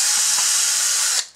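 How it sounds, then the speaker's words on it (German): A high-pitched drill whines steadily as it bores through a plastic wheel adapter on a Bruder Volvo dumper toy being converted to RC, then winds down and stops near the end. "Wir bohren also jetzt einmal ringsrum durch."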